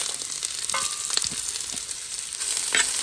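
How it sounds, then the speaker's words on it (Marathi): Curry leaves hit hot oil already spluttering with mustard seeds for a Konkani cabbage foogath, giving a steady close sizzle with sharp pops and crackles scattered through it. No one speaks. "आता कढीपत्ता घालता."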